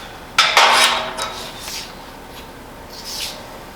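A hammer and dolly strike and work a sheet metal floor pan: a sharp metallic hit followed by a few lighter taps and rubbing, close up, with a fainter clink near the end.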